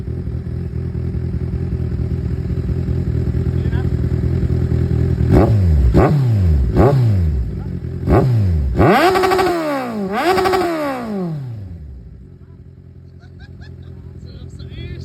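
Motorcycle engine revved hard in a sound check, a steady idle followed by a rapid series of sharp throttle blips rising and falling, then settling back to a lower idle, loud and close.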